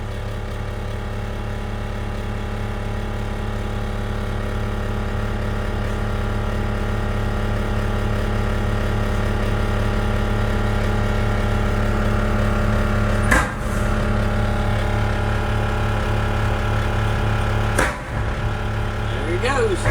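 Heavy diesel dump trucks idle and back into position for side-by-side dumping, a steady low engine rumble running throughout with a couple of sharp mechanical clanks near the end; someone talks over it.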